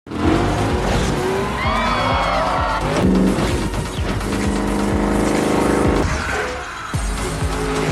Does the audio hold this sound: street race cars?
yes